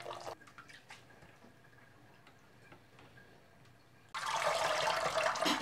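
Blanched rice noodles are rinsed in cold water: quiet scattered drips and ticks first, then a sudden loud rush of running water for the final second and a half.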